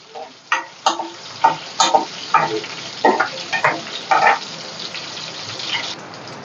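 Garlic frying in a pan for a Katla fish curry, with a steady sizzle under a run of sharp scraping and stirring knocks from a spatula, close and fairly loud, easing toward the end.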